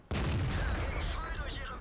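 A T-43 medium tank fires its gun in World of Tanks, one loud close blast with a low boom and a long decaying rumble.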